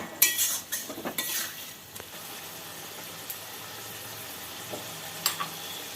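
Fried morola fish being stirred into a spicy potato curry in a pan, a soft simmering sizzle with scraping spatula strokes and metal clinks, busiest at the start then settling.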